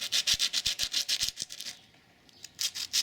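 A brake pad from the rear brakes of a Qiewa Q1 Hummer is rubbed on fine-grade sandpaper to remove glaze, with about a dozen quick rhythmic scratchy strokes up close, a brief pause, then more strokes.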